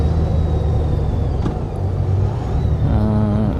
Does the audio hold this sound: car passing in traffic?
yes